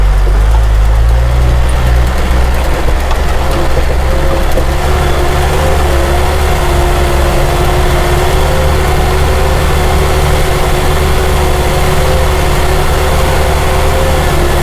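A car climbs a steep, narrow road in first gear, its engine giving a loud, continuous low drone with a steady tonal whine. The strain holds evenly for the whole stretch, with no speech.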